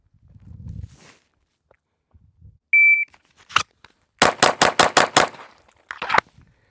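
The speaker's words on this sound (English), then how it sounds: "That's 6 shots as fast as you can from a draw, and then I'll throw Mozambique at the end on that." Six rapid shots from a Glock 19X pistol in a fast bill drill from the draw, each a loud, sharp crack in a tight burst, preceded by a shot timer beep and faint handling noise, with a separate shot following shortly after.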